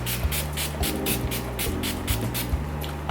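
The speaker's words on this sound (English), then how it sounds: "I'm going to go in with my setting spray" Quick hissing sprays of makeup setting spray puff out in a steady rhythm, about eight short bursts, close by over a low electronic hum.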